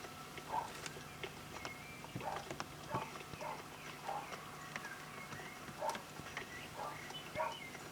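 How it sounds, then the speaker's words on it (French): Achille the horse's hooves clip-clop on the ground at a lively working pace, a series of soft, fairly distant footfalls against a quiet outdoor background. "Achille est quand même un cheval vachement motivé et dynamique"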